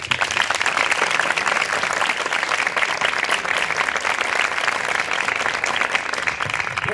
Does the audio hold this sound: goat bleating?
no